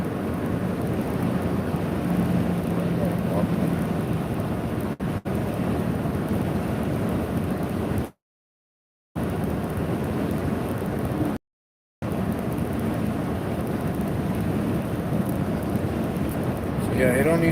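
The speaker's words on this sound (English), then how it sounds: "It went from snow to rain within about 20 minutes of driving." Rain pelting a car driving on the road to Las Vegas after snow turned to rain, a steady dense hiss and rumble with road noise, loud and continuous, broken by two short silent gaps.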